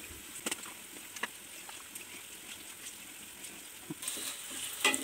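Greens that have been squeezed of their water, frying in a pan for a traditional Karnataka bassaru palya, making a soft steady sizzle with a few brief clinks and stirring sounds.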